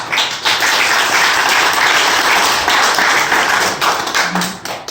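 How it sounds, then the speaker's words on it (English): Sustained, loud audience applause fills the room at a tribute event honoring a teacher and coach, a dense wash of clapping that holds steady for the whole stretch before thinning slightly at the end. "Will you please give a round of applause for Mr. Mike Key?"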